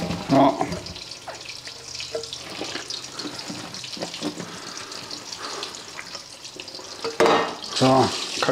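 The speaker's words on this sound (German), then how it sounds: "Und werde das Ganze wie im Rezept angegeben durch ein Sieb gießen." Hot water and cooked potatoes are poured through a sieve, giving a steady splashing gush between two louder clattering bursts at the start and end.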